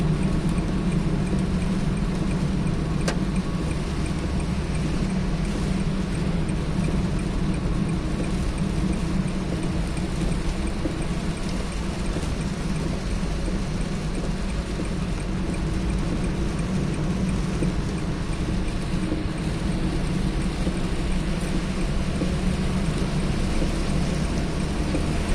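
Heavy rain and storm noise surround a car on the road, a dense, steady roar of rain and wind lasting the whole stretch without letup, with no talking.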